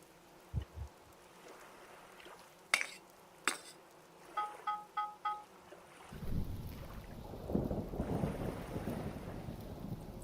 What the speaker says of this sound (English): Hopefully the rain stops long enough to let us do this